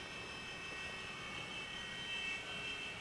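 A radio-controlled model helicopter hovers just off a tabletop and out past its edge, giving a steady, fairly quiet high-pitched rotor and motor whine with a constant tone and no talk.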